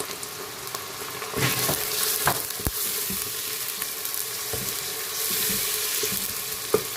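Spices sizzle and fry steadily in a pan for chana maash tarka daal, a continuous hiss broken by a few stirring clicks and taps, close and fairly loud with no talking.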